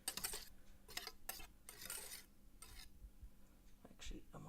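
A utensil scrapes and clinks in a bowl while egg whites are folded into yolks for scrambled eggs, a faint, irregular series of scraping strokes and light taps near the listener.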